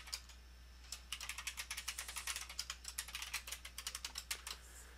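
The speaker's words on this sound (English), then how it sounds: "Type my form data in again." Quick, irregular keystrokes on a computer keyboard as form data is entered, a steady run of light clicks over a low background hum, with no talking.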